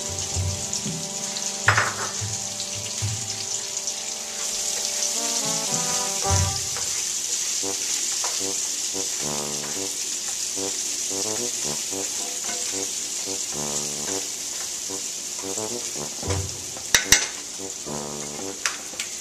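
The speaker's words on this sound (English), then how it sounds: "Now while I let those onions cook a little bit" Onions frying in a pan with four cloves of minced garlic for a vegan chicken marsala, giving a steady close sizzle throughout with a few clinks and scrapes of stirring and no voices.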